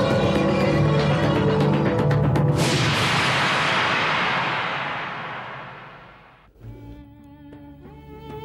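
Dramatic gunshot sound effect in a Sri Lankan crime investigation programme: a loud, dense blast sweeping away over several seconds, followed by a brief lull and then music-like tones.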